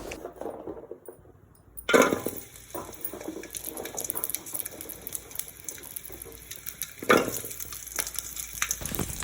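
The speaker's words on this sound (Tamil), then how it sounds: "அதே வாணலில் கொஞ்சமாக எண்ணெய் விட்டு க்ளீன் பண்ணி வச்சுக்கிற சின்ன வெங்காயம் 10, அது கூடவே வெள்ளை பூண்டு 4 சேர்த்திக்கோங்க." Ten small onions and four cloves of garlic fry in a little oil in a pan, a steady close sizzle with a few sharp crackling bursts and light clinks, no talking.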